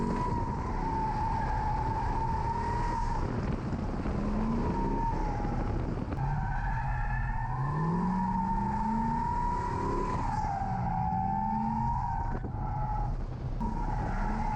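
A Chevrolet Corvette C6 drift car on a track holds a loud, sustained engine note that rises and falls with throttle changes, with tire squeal running over it throughout and no voices.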